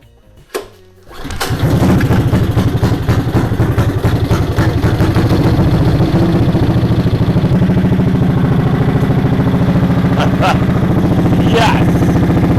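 A small go-kart engine starts after a brief clunk and settles into a loud, rapid, steady buzzing run, close up and continuous.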